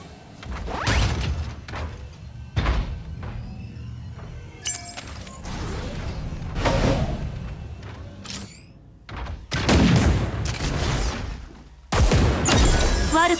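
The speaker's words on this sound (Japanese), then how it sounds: "銃声よ、気を引き締め。" Gunfire in the mecha battle-royale game Super Mecha Champions bursts out in loud, sharp volleys and impacts, scattered across the stretch with crashing, shattering hits and brief pauses between.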